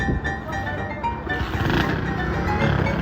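A motorcycle being ridden with a passenger, a steady close engine drone with road rumble that swells slightly toward the end.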